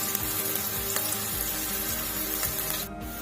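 Bay leaf and green chili sizzle and fry steadily in hot oil for a matar aloo curry, a dense continuous crackle close up with no voices.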